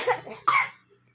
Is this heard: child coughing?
yes